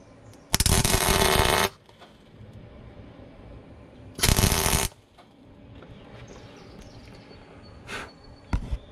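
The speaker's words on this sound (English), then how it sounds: "we'll go ahead and tack this thing, this big castle nut, in two places" Tack welding a large castle nut on a new generic JCT brush cutter, heard as two loud, close buzzing arc bursts of about a second each, with fainter clicks and shorter crackles afterward.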